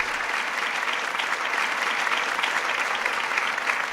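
Sustained applause sound effect of many hands clapping, played on a podcast set, steady and fairly loud throughout with no talking.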